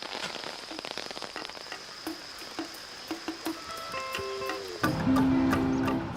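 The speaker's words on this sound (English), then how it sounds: "At last, the rain stops" Steady rain patters on a garden during a trip through South America, with scattered distinct drops over a close, continuous hiss; a louder tonal drone joins near the end. No one speaks.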